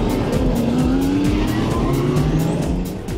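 BMW M3 race cars at Spa-Francorchamps starting a race, a dense, loud roar of many engines revving and climbing in pitch together with tire squeal, close and continuous before easing slightly at the end.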